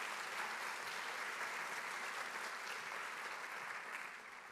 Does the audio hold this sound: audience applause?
yes